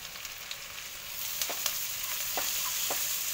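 Onion, green chili and ginger frying in oil for mushroom masala curry, a steady bright sizzle that grows slightly louder, broken by several quick stirring clicks.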